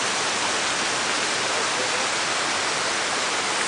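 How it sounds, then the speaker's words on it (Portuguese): A waterfall rushing in a steady, dense roar of falling water, unbroken and fairly loud throughout, with no other sounds. "Essa cachoeira é maravilhosa."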